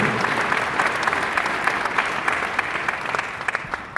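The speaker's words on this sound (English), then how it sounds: "let's give a warm third ward applause and welcome to Cedric Alexander" Audience applause in a Third Ward public safety Q&A welcoming Cedric Alexander, a steady dense clapping from a crowd that holds for the whole stretch with a few sharper claps near the end.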